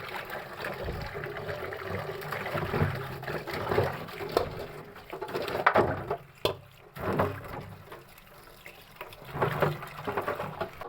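Raw green bananas, soaked with turmeric and salt, are rinsed and rubbed by hand in water, giving continuous close splashing, trickling and sloshing with uneven surges and no one speaking.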